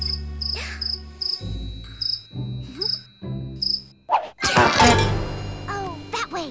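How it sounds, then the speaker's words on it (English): A cartoon cricket inside a house chirps in short, evenly spaced bursts. Then a sequence of thumps and crashes follows, with whooshing sound effects layered over it. "I can't sleep with all that chirping!"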